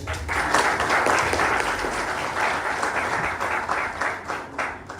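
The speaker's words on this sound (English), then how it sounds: "So claps for ma'am." A keynote audience at a Keras Community Day gathering in Kolkata applauds a woman who helped secure the venue. Steady, dense clapping from a sizeable crowd fills the room at an even level throughout, with no voices standing out.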